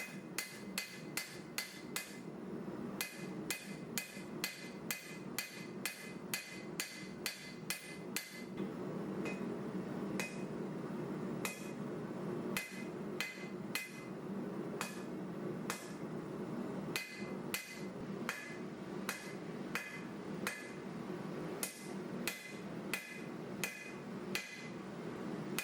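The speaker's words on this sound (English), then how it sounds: "that's what I'm forging there, just trying to square up those edges" Steady hammer blows on a leaf spring steel knife blank during forging to square up the edges, sharp rhythmic metallic strikes repeating throughout, loud and close with no talking.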